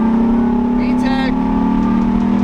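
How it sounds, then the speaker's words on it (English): A Honda engine holds a loud, steady droning hum up close as VTEC engages, with a brief rising whine partway through and a voice speaking over it. "You heard that VTEC kicking, bro."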